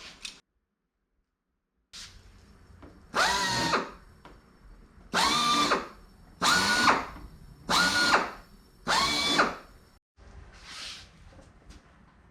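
An electric drill whirs in five short bursts, match drilling aluminum tabs, skins and baggage ribs of a Van's RV-7A airplane, each a second or so long with pauses between, close by and fairly loud against a quiet workshop.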